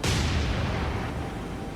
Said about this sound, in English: Amsterdam's, I think 5-inch guns are going off. Secondary guns.